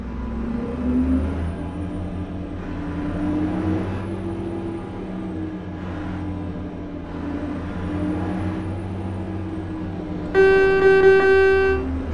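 A steady Renault Magnum truck engine rumbles throughout in Euro Truck Simulator 2, then a loud, sustained air horn blast sounds near the end over the motor noise.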